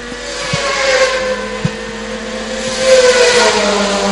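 A 400 motorcycle engine revs hard at full throttle during a Formula 4 road race at Southern Downs, a loud sustained whine rising in pitch as it accelerates past.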